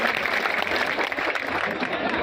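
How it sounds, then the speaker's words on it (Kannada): Loud, dense applause from a crowd at a farmers' protest at a road crossing, a steady wash of clapping with no break across the whole stretch. "ಜೋರಾದ ಚಪ್ಪಾಳೆ ಮೂಲಕ ಧನ್ಯವಾದ ಸಲ್ಲಿಸ್ತೀನಿ."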